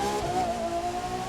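Ferrari V12 engine in The Crew 2 holds a loud, steady, throaty drone with a slight rise in pitch, heard alone without any talking.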